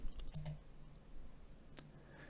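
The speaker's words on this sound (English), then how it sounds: "you can give it a name like this and click Save" A computer mouse clicks the Save button, giving a few light, sharp clicks against a quiet room background with no talking.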